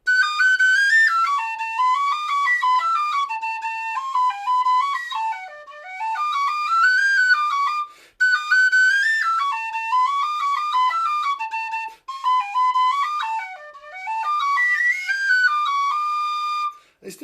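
Tin whistle plays the Irish jig Father O'Flynn (Top of the Cork Road) straight through with no ornamentation, a clear, bright, close melody in continuous phrases with brief breaths between them, alone.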